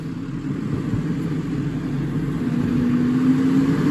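A GFL Environmental automated garbage truck runs close by, its engine a steady low rumble that swells and rises in pitch toward the end as it revs, with no talk.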